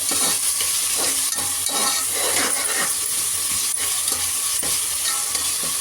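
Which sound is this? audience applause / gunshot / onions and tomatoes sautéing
onions and tomatoes sautéing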